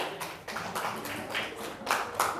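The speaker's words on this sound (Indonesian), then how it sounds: "kita kasih tepuk tangan untuk kelompoknya Mbak Saza ya" Brief clapping from a small group of students in a classroom, a few quick uneven bursts of hand claps close by, with no one talking over them.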